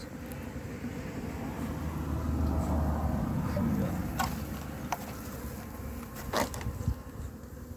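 Soft, steady buzzing of many honeybees close by at an open hive, a low droning hum with occasional faint clicks and rustles.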